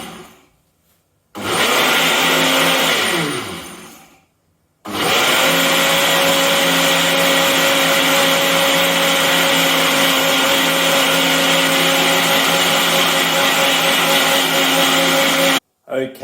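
A kitchen blender blitzes chocolate protein pancake batter with a loud, steady whirring roar that runs for over ten seconds after a brief start-up burst, then cuts off.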